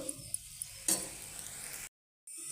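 Food frying in a pan while making a sour curry, a faint steady sizzle with a couple of light clicks and a utensil tap, cut off briefly by a short gap of silence.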